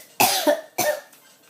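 Two sharp coughs from a person with a congested throat, close and loud, the first a quick double burst and the second a single hack, with short silent gaps between.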